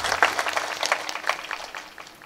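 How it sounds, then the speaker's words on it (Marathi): An audience at a kirtan claps loudly in a burst of bright, crisp hand claps that ring out strongest at first and slowly thin toward the end. "सर्व गुणजनांकरता एकदा जोरदार टाळी वाजवा"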